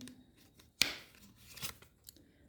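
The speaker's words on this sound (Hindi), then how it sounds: "एक कार्ड निकाल लेते हैं।" A tarot card drawn from the deck gives a single sharp, crisp snap followed by a short papery swish, close and fairly quiet, with no voices.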